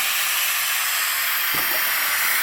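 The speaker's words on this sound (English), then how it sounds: "That allows air to escape that gets compressed in the drum as we go down." Compressed air rushes out through an open valve on a Graco heavy-duty drum ram pump as the platen lowers into the drum, a loud, steady, close hiss lasting the whole time.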